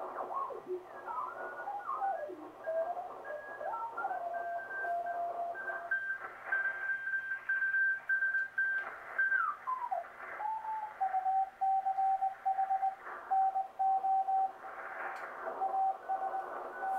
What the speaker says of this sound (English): let's listen to a little CW